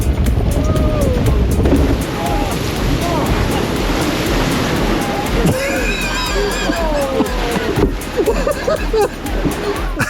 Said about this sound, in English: That splash looked pretty small from the sidelines, and it completely soaked me.